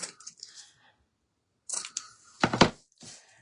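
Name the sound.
scissors trimming a ribbon bow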